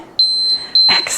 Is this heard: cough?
no